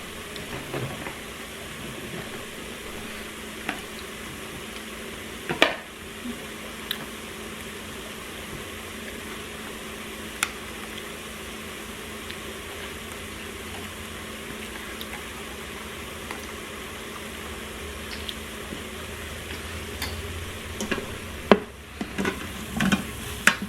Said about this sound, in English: I'm just going to saute these just a little bit till they get tender